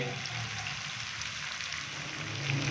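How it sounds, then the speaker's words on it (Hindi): Chicken pieces frying in a pan over a medium-high flame give off a steady, even sizzle with fine crackling throughout, close up and without any talking. "अभी हम मीडियम से हाई फ्लेम पे चिकन की एक साइड को तकरीबन 3 मिनट के लिए फ्राई करेंगे"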